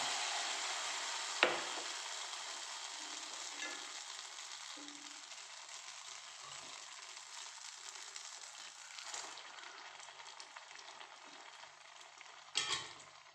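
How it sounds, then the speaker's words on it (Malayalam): Battered dates frying in hot oil give a steady, fairly quiet broadband sizzle that runs throughout, with a few sharp clinks or knocks near the start and the end. "ഈത്തപ്പഴം മുക്കി പൊരിച്ചത് ഒന്നും കൂടി ഇട്ട്"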